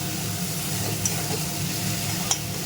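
Spice paste with chopped onion sautés in oil over a low flame while cooking fish, making a dense, even sizzle with a couple of faint stirring ticks, close and without talking.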